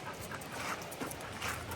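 A dog pants softly in quick, rhythmic breaths, faint and close beside a flooded trail near an Alaskan cabin.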